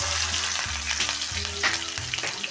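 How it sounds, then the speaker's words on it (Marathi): Green chillies frying in hot oil with mustard seeds, cumin and asafoetida for a Maharashtrian tempering, a loud continuous sizzle with spitting crackles and occasional stirring scrapes, no voices. "मिरची थोडीशी तळली गेली की कढीपत्ता टाकूया"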